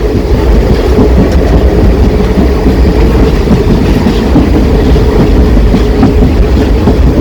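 A passenger train running from Kozhikode toward Ernakulam via Shoranur gives a loud, steady rumble of wheels and carriages, a continuous roar with no break throughout.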